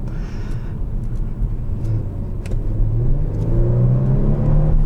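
A 2021 Kia Stinger GT1 sports sedan's engine rumbles loudly and climbs in pitch as it accelerates hard, a rising drone heard from inside the cabin with light clicks.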